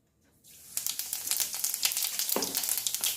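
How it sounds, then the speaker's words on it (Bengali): Cumin seeds dropped into hot oil in a kadai for a Bengali yam and prawn dish, a sudden loud sizzle that stays bright and crackling, with dense rapid popping throughout. "তেল গরম হয়ে গেছে এবার আমি একটু জিরে ফোড়ন দেব"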